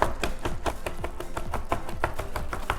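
A knife chops spicy tuna on a cutting board in quick, steady strokes, a close run of sharp, even taps with no talking.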